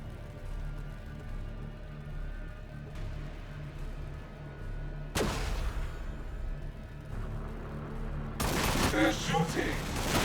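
Battle sounds from Warhammer 40,000: Battlesector, with Orks in the fight, make a constant rumbling backdrop broken by a sharp burst of gunfire near the middle and a heavier, louder volley toward the end.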